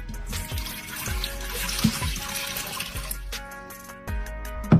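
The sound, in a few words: pouring 3 cups of water into a multi cooker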